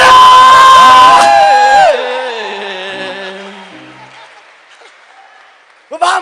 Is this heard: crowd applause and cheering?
yes